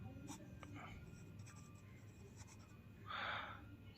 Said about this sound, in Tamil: ஸோ நான் இங்கே எழுதுகிறேன்.